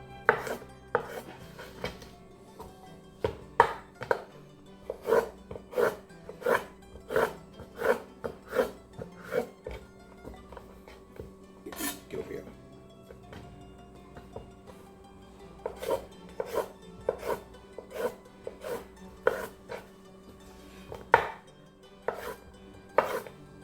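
A knife cutting bell peppers into strips on a board, a rapid series of crisp chopping taps in irregular bursts with brief pauses, close and clear with no talk.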